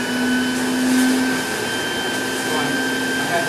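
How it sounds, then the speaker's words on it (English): NaceCare TP18SX cleaning machine with its vacuum motor switched on, a steady loud whine with a sustained tone, running continuously for the whole stretch with no talk over it. "You just turn your vacuum on for you."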